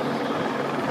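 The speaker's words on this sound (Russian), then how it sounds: "Например, сбить этот вертолет." A helicopter flies over a large Moscow street rally, its steady broadband rotor and engine roar loud and continuous throughout.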